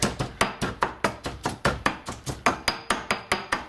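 Onions and garlic pounded in a mortar for sambal ketjap, a steady series of close, sharp thuds landing about four or five times per second, each one ringing briefly.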